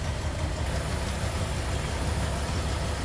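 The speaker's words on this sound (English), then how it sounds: "There's a flathead. Again, you can see how nice and smooth it runs." A 1936 Ford Woody wagon's flathead engine, converted to 12 volts, idling with the hood open, a smooth, even low rumble heard steadily and alone.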